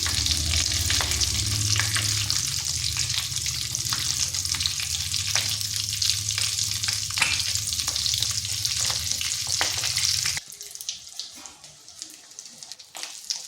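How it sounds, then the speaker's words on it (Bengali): A crisp nasta snack fries in oil in a pan over medium heat, giving a steady, close sizzle with a low bubbling rumble. After about ten seconds it drops to faint, scattered crackles. "এইভাবে মুচমুচে করে ভেজে নিয়েছি।"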